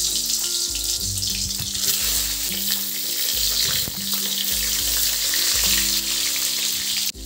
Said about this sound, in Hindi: इसी में हम एक एक करके बैगन भी भून